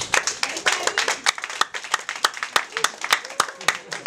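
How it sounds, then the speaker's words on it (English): A comedy club crowd at an open mic show claps loudly and briskly, dense hand claps close to the microphone with a few voices mixed in, lasting several seconds. "Round of applause."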